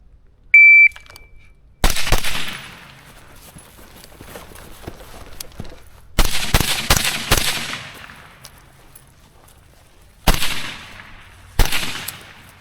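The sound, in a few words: rifle gunshots at a shooting range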